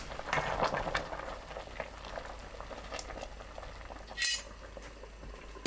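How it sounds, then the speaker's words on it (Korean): Tough dried vegetables (namul) simmer in a pot with sugar after 30 minutes on medium heat, giving a soft bubbling backdrop broken by scraping and clinking as they are stirred, with one sharper clatter near the end. "30분 후 골고루 섞어줍니다"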